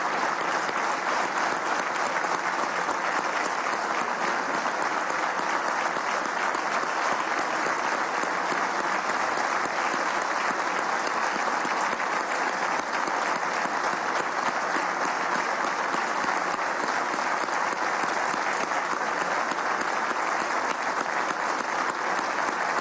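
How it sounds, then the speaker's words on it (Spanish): Sustained applause from a parliamentary assembly in Venezuela's National Assembly, steady and dense throughout, many hands clapping at once with no pauses. "le brindemos un minuto de aplauso, un minuto de merecido aplauso"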